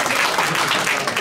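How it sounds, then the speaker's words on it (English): Audience applause after a coral reef presentation at a Heritage Week event, a dense, steady wash of clapping that stays loud and even throughout the short burst. "can we all please give Dr. Wagner a round of applause"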